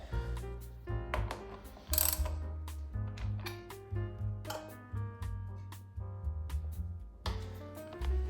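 A ratchet works bolts loose from the chassis of a 1993 Transalp motorcycle, clicking in short repeated bursts of pawl ticks with brief pauses between strokes, close and clear with no talking.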